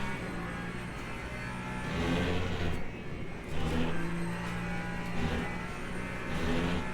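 Ferrari engine in a racing game at Silverstone, a steady, loud mid-pitched drone that swells and eases as the car accelerates, with no talk over it.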